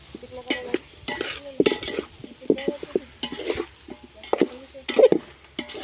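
Spoon or ladle stirring fried brinjal in a pan on a wood-fired stove, repeated scraping and clattering strokes over a steady sizzle, close and fairly loud.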